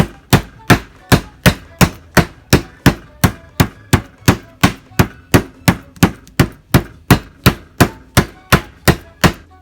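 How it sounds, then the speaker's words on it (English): Steaks pounded flat with a meat mallet, about twenty-five loud, evenly spaced thuds in a steady fast rhythm, each a sharp close impact on a board. "I'm going to start off by pounding these steaks."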